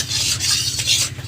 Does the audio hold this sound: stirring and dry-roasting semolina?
yes